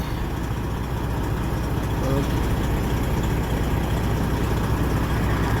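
A 2014 Freightliner Coronado glider semi truck's Detroit Series 60 12.7-liter diesel engine idles with a low, constant rumble throughout, close by and fairly loud.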